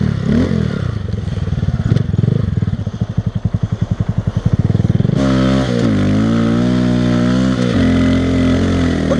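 A Honda Grom motorcycle spinning its rear wheel in snow: a loud, close engine with a rapid pulsing chatter that builds for several seconds, then a sharp shift into a smooth, high revving drone that rises and falls.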